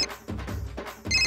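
A mobile phone rings with an incoming call, short repeating tones of the ringtone pulsing in a quick rhythm, close and clear, with no talking over it.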